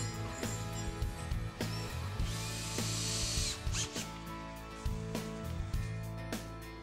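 A power drill drives screws into brackets on a wooden window frame, in repeated short whirring bursts with brief pauses between them, close and fairly loud.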